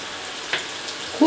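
Sliced onions with a pinch of salt fry in oil until lightly browned, giving a quiet, even crackle with a couple of sharper pops, close by.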